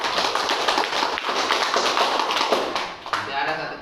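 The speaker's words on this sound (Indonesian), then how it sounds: "Tepuk tangan untuk kelompok 3" Students in a classroom clap for group 3 after a discussion of the Prophet's hijrah, giving a dense burst of applause that runs for several seconds, close and lively, with some chatter mixed in.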